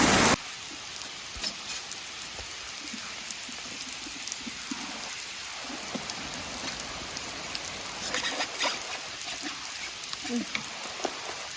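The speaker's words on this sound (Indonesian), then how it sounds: "Hujan deras, ya Allah." Steady, dense hiss of heavy rain pouring down close by in Norway, continuous throughout with scattered louder drop impacts.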